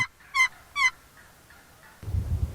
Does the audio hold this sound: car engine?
no